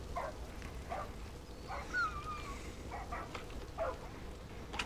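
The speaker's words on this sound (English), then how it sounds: "I think you hurt the dog again." A dog in the game Far Cry 5 whimpering and yipping in short, soft bursts spread through the moment, faint over a low rumbling background.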